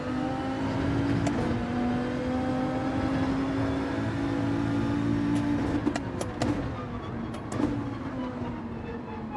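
A racing car in Gran Turismo 7 drifting under braking, a loud steady engine drone with shifting pitch and brief squeals of tyres near the end, close and dominant.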